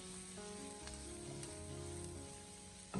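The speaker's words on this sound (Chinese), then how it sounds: "我们将其持续的翻炒大概1分半钟，将所有食材翻炒出锅气" Cucumber peel stir-fried in a wok with a constant loud sizzle and occasional scrape of a spatula tossing the pieces, close by and without talk.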